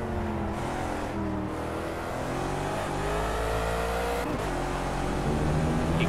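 A Gumpert Apollo S race car at the Nürburgring in Project CARS roars close and steady, its engine pitch rising and falling through gear changes and throttle, loud and continuous.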